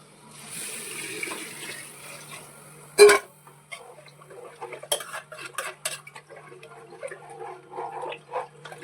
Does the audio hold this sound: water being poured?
yes